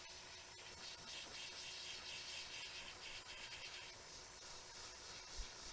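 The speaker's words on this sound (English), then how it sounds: "This is where I test the brush to make sure I'm getting the right level of paint output" Airbrush test-spraying a fine mist of green body paint before application, a steady close hiss running unbroken throughout with a brief soft knock near the end.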